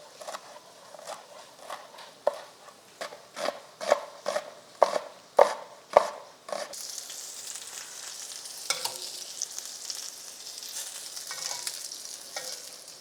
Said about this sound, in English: Get our peppers and onions chopped up.